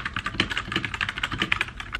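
Fast, continuous keystrokes clatter on a mechanical keyboard, close and moderately loud, with soft thocky clicks in an uneven typing rhythm.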